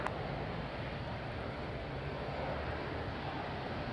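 An aircraft on approach to runway 05 at Madeira airport, a steady broadband engine roar that holds loud and even throughout, with no talk over it.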